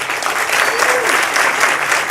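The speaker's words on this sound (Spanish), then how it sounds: "despedimos con un aplauso al orador" An audience applauds a departing speaker at a math and hacking talk, a dense, steady wash of clapping filling the hall for a couple of seconds with no voices over it.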